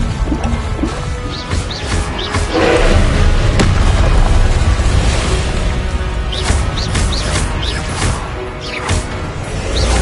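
Incendio fire spells cast in Hogwarts Legacy: loud, repeated bursts and booms of fiery magic layered over dense game noise, recurring every second or so with whooshing flares.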